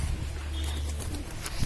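Pigeons coo softly in a low, murmuring tone, fairly close, against a steady background hum with no talking.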